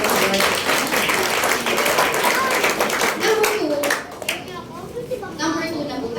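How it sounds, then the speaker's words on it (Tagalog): Church congregation gives a loud round of applause and clapping, full and close at first, then thinning toward the end as voices and chatter come through. "Isang malakas na palakpak ulit po."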